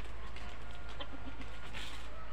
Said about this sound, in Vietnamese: Đây gà rừng nha các bác nha